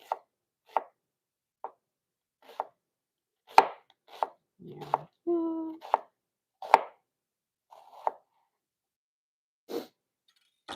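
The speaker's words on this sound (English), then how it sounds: "For my onions, I'm going to keep them like long, skinny slices." A knife cuts onions into long, thin strips on a cutting board, with about a dozen separate sharp chops spaced unevenly and heard up close in an otherwise quiet room.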